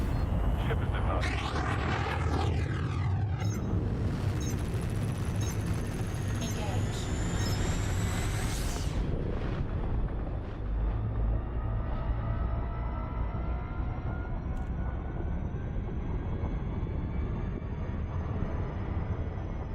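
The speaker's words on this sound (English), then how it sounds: "Ship is departing." A spaceship departs in the video game Elite Dangerous: a loud, continuous engine rumble with rising and sliding tones and a whooshing surge midway that settles into a sustained drone.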